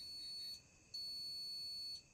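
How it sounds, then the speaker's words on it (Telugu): A continuity tester's buzzer sounds while probing the panel circuit of an LG 32LK526BPTA television. It gives a steady, faint high-pitched tone that drops out briefly, resumes, then stops near the end. "ఈ పాయింట్కి బజర్ అరుస్తుంది"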